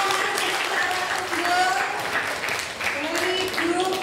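Applause from a competition audience, a continuous crowd clapping with a voice talking over it and a few brief whoops.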